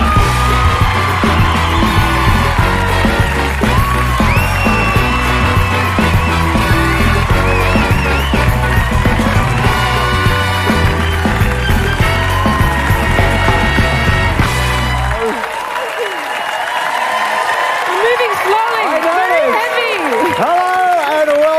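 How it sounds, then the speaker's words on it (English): A Dancing with the Stars studio audience cheers, whoops and applauds loudly through a stretch of music, and the noise carries on after the music stops. "What a crowd we've got tonight."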